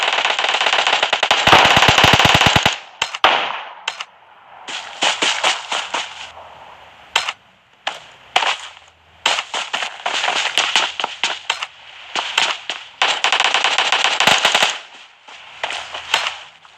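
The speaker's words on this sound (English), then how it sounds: "I can see gunshot, but I can't see these people fighting" Gunfire in the mobile battle royale PUBG Mobile: repeated bursts of rapid automatic fire, loud and sharp, broken by short pauses and single shots throughout.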